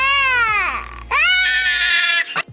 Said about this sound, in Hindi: फिर सफेद बच्चा खुद को पानी में देखता है और जोर जोर से रोता है।